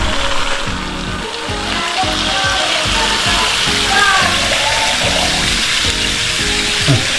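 Cooking food hisses and crackles in a pan after a splash of water goes in alongside sweet chili sauce, a dense steady sizzle close up with a rhythmic low pulsing beneath and a voice now and then.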